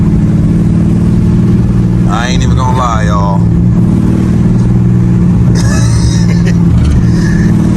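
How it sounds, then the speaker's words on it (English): Cammed, tuned SRT car with a loud, choppy exhaust rumble idling close by, a lumpy steady drone throughout, while someone talks over it. "you can hear the roar of the exhaust a little bit better now"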